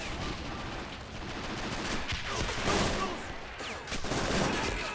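Gunfire rattles continuously in the World War II strategy game Men of War: Assault Squad, a dense, moderately distant mix of rifle and machine-gun fire during an assault on a Soviet defense line.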